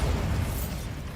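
Bombarda spell blast in Hogwarts Legacy, a dense, sustained roaring burst heavy in low rumble, loud and close, filling the whole moment without any voice.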